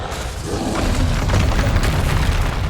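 A Bombarda spell explosion in the video game Hogwarts Legacy: a loud, dense, sustained boom with heavy low rumble and crackling debris filling the whole moment.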